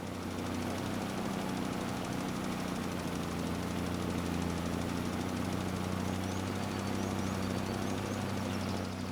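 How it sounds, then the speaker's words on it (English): A tractor engine labouring up a hill in Farming Simulator 25 on Highlands Fishing, a steady low drone and knock that hold unchanged for the whole stretch, fairly quiet with no voices over it. "you just listen to the sounds of the tractor struggling to get up the hill"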